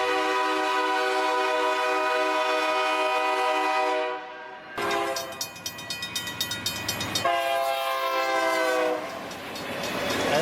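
An American freight train sounding its loud multi-tone horn in a long sustained blast, then short repeated blasts alongside the rhythmic clatter of rail cars passing close by.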